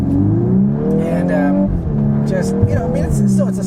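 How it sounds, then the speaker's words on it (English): A 2023 Volkswagen Golf R 20th Anniversary Edition with a DSG gearbox revs steadily, its engine tone rising and shifting under continuous talking from a nearby voice, loud and close. "I still think the sound isn't quite as exciting, the engine's not quite as exciting as the competitors"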